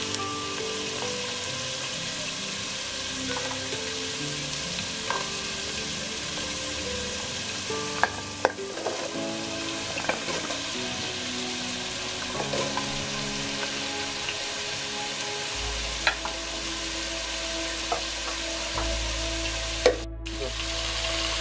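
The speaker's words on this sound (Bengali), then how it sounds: "আমি সামান্য একটু তেলের মধ্যে একটু ভেজে নিব" Vegetables sizzle steadily in a little oil for khichuri, a soft continuous frying hiss broken by occasional scrapes and clinks of stirring, with no talk.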